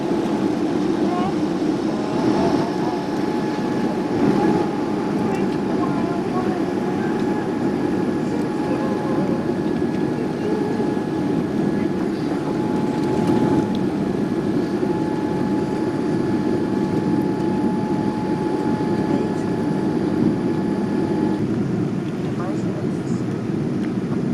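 An airliner takes off from a runway, heard from inside the cabin as a steady, loud engine roar with a sustained whine running throughout, while passengers talk under it.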